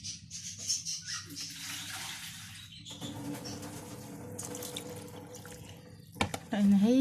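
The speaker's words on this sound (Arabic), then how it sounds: "انا هجيب شوية مية كمان" Water is poured into an Egyptian hati-style salad dressed with squeezed lemon, a soft running trickle with splashes that lasts most of the stretch before a sharper, louder burst of pouring at the end.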